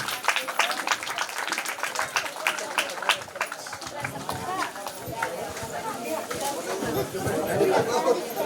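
A church congregation claps together at a new church dedication and Christmas celebration: a steady, dense wash of applause with crowd chatter mixed in, holding a fairly even level throughout.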